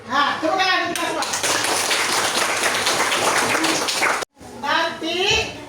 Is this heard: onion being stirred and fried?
no